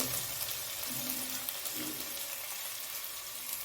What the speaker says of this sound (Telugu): ఆయిల్లో బాగా వేగింది